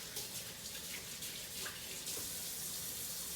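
A tap runs steadily as hands are washed under it, a continuous close hiss of water with slight splashing changes and no talk.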